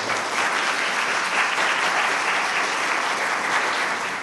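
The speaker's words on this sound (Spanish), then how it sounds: "Un fuerte aplauso para él." Sustained, dense applause from an audience at a citizens' debate final fills the room, a loud, even wash of clapping hands that holds steady from start to finish.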